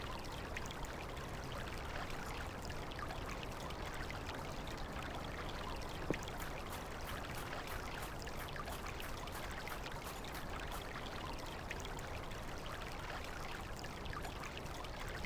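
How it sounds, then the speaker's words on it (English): Steady, even video game rain hiss fills the whole stretch, soft and constant, heard from under an awning, with no voices. "The awning offers a little shelter from the rain at least."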